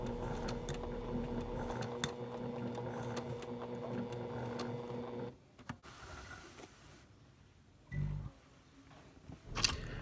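A sewing machine stitches the sharp end of a bust dart on a Simplicity 8296 garment. It runs steadily and close for about five seconds, then stops, leaving quiet room noise with a few soft handling bumps.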